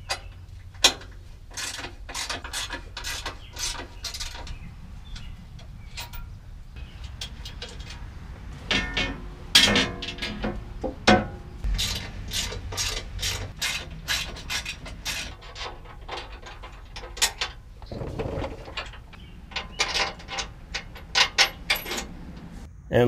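Bolts go in as a homemade transmission skid plate is mounted under a vehicle: close, irregular clicks, taps and scraping rattles of tools and metal, scattered over a quiet background.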